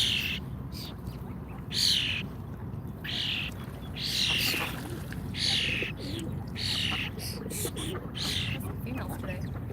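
A crow calls loudly outdoors in Washington DC, giving a long run of harsh, evenly spaced caws over steady background noise.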